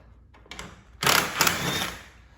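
An 8 mm socket on an extension works loose a radiator bolt on a Fiat 500 Abarth, giving a short burst of close metallic ratcheting that swells after a brief pause and then rattles on steadily for over a second.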